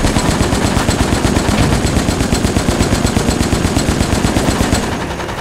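Rapid, continuous automatic gunfire from Resident Evil: Operation Raccoon City, loud and relentless with evenly spaced shots for about five seconds before cutting off abruptly.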